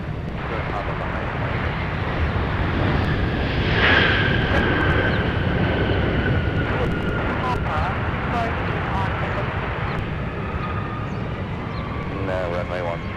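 An airliner takes off from runway 17 at Minneapolis–Saint Paul airport, its engine roar swelling with a rising whine, heard under radio voices.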